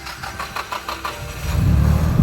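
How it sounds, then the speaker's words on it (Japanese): A drift car with an SR20 single-turbo engine cranks with a quick run of starter pulses, then catches and settles into a loud, deep rumbling idle close by. "じゃあエンジンかけてください。"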